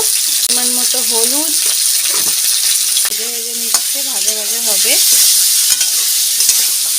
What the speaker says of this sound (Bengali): কড়াই গরমও হয়ে গেছে এখন ফোড়নে দিয়ে দিচ্ছে কালো জিরে আলু আলু আর ওইটা একটু এখন ভেজে নেবে